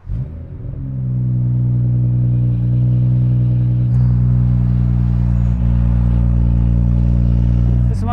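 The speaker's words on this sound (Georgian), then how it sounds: "ეს მანქანა გახლავთ BMW" A BMW M240 with a manual gearbox and B58 engine rumbles into life and settles into a deep, steady engine drone heard up close, with a small clunk partway through.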